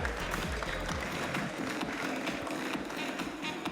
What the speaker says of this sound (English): Ladies and gentlemen, a big round of applause for the boys